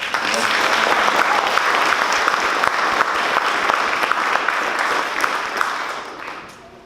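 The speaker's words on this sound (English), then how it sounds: "give them a round of applause" Audience applause at a fire academy graduation for newly certified firefighters: dense, sustained clapping from a large crowd, steady for about five seconds and then tapering off at the end.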